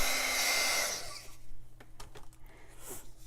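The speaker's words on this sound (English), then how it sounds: "I love to heat emboss." A heat embossing gun blows hot air in a loud, close, steady whoosh for about a second before switching off, leaving faint handling noises and a short breathy puff near the end.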